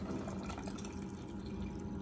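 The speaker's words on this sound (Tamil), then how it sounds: "குழம்புக்காக வேண்டி ஒரு 1/2 கப் தண்ணியை சேர்த்திக்கிறோம்." Half a cup of water poured into a simmering fish curry, a steady low liquid splash and trickle with dripping, close and continuous throughout, no talking.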